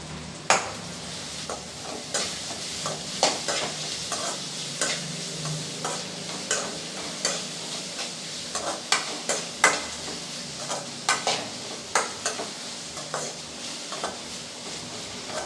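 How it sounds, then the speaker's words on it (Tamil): Red and green capsicum sautéed in a pan for a meal maker manchurian: a steady sizzle runs throughout, broken by frequent sharp spatula clicks and scrapes against the pan at an uneven stirring rhythm, close and clear, with no talking. "க்ரீன் கலர் குடமிளகாயில் ஒரு பாதி குடமிளகா கட் பண்ணி வச்சுருக்கேன் அதையும் சேர்த்துக்கலாம் சேர்த்து கொஞ்சம் நல்லா வதக்கி விட்டுக்கலாம்"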